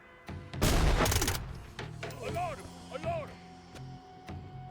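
Submachine gun fire in the tactical shooter Door Kickers 2 during close-quarters room clearing, a loud sustained burst early on, then scattered single shots and game effects, with someone talking.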